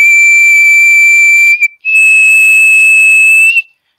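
A person whistles a pure, steady tone that holds level, breaks briefly, then resumes slightly higher and ends abruptly, loud and close with no talking.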